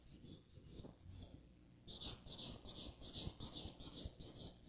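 Acrylic nails are buffed with a clean finish buffing file in long strokes, giving a soft, rhythmic scratchy rasp that repeats in even, close passes and grows steadier in the second half.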